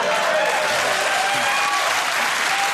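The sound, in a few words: studio audience applause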